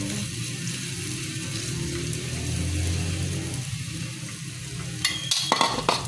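Shrimp fry in a pan with a continuous close sizzle, then a burst of scraping and clattering near the end as they are stirred or turned.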